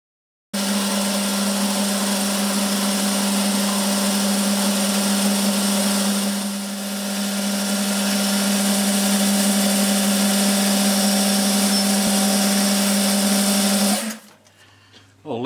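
A lathe turning an insert holder between centres runs as a steady, loud, continuous machine hum with a constant whine for about fourteen seconds, then cuts off abruptly near the end.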